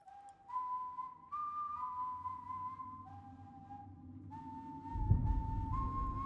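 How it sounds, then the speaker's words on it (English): A slow eerie tune whistled in single sustained notes that step up and down in the Death villain's introduction in Puss in Boots: The Last Wish, clear and alone against a quiet background, with a soft low thud near the end. "Death himself to be accompanied by that type of whistle"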